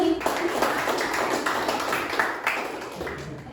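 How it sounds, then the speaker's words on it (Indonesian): Students in a classroom clap together, a moderately close patter of many hands that keeps up steadily and thins slightly toward the end. "Tepuk tangan dulu untuk Wati."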